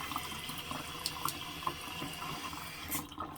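A waterfall-style bathroom faucet runs at full flow into a sink, giving a steady, close rush of water with small splashy flickers and no talking.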